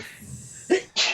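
A single sharp sneeze bursts out close by, followed by a brief spoken word right after.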